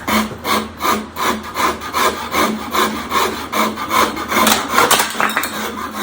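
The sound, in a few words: Shinto rasp shaping a wooden guitar neck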